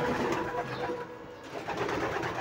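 Pigeons cooing inside a loft where young squabs are kept, a steady low murmur of soft calls running through the whole stretch at moderate loudness with no talk.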